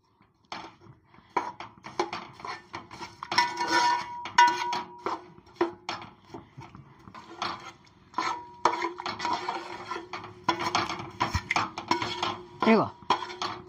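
Spoon stirring jaggery syrup in a pot, with irregular scraping and clinking against the metal under a woman's ongoing speech.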